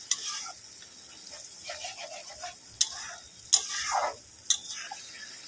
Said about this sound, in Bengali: তাকে ভালো করে একটু কষিয়ে নেব, যতক্ষণ না টমেটোর গন্ধটা যায়।